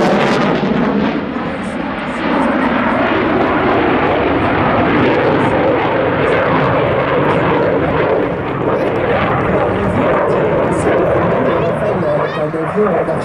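Delta-wing airplanes flying at a French air show, a loud sustained engine roar that fills the whole stretch, with an announcer speaking over it.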